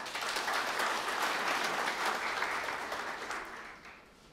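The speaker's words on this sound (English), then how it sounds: "Can we clap for them?" An audience at a ceremony for Bungoma West Hospital breaks into sustained applause, a dense wash of clapping from many hands that holds steady and then tapers off toward the end.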